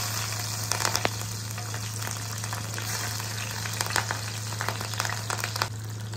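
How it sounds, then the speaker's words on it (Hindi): Cumin seeds and green chilies fry in hot oil with a steady, moderate sizzle, punctuated by scattered pops and crackles and a constant low hum in the background. "तेल ताती गला हमें एथिरे जीरा पकेवा। तापर हमें कंचा लंका पकेवा।"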